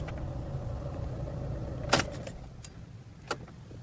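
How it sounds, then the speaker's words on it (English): A vehicle is switched off, with its engine's steady idle hum dropping away, then keys jangle and a couple of sharp clicks and rattles follow close by in a quiet cabin. "Now I can shut the vehicle off."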